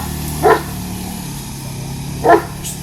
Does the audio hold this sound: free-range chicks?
no